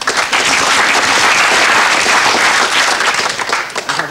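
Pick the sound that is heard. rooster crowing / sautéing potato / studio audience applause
studio audience applause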